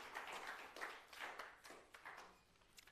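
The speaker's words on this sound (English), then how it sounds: "Let's give a round of applause to Rio" Seminar audience clapping for a speaker, heard as a thin, uneven patter of individual claps that stays quiet and distant and tapers off toward the end.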